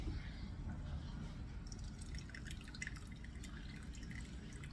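Whey drips through a towel while cottage cheese is made, giving faint, scattered patters over a low, steady background hum that quickens slightly in the second half.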